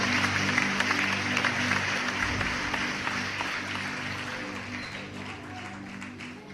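Sustained congregation applause at a Spanish-language church service, a broad wash of many hands clapping loudly and continuously with a low hum of crowd noise beneath.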